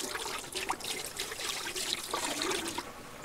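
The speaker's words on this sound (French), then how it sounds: "Je vais rincer avec de l'eau." Water splashes and trickles steadily close by as a dirty, oily mechanical part is rinsed, making a continuous bright wash of sound.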